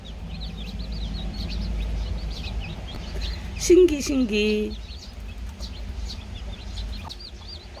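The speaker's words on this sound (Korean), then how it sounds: "꾹꾹꾹 이 소리가 먹어 먹어 이소리인것 같아요" A mother hen with newly hatched chicks gives soft, repeated low clucks, with a louder burst of fowl calls midway and a person speaking briefly.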